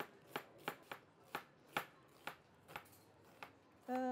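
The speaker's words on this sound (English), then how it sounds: "So I'm going to start off by slicing" Knife slicing vegetables for an easy vegan soup on a cutting board, about a dozen crisp, evenly spaced chops close up, with a brief louder knock at the end.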